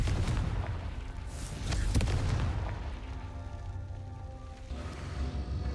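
The Confringo fire spell in Hogwarts Legacy erupts as a loud, sustained fiery blast with a heavy low boom and a crackling roar that slowly fades over several seconds, with no voices.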